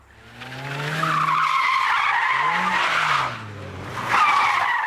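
A stunt driver's car pulls a handbrake turn, tires squealing and skidding loudly over several seconds under engine drone, easing briefly before a second sharp squeal, with no talking.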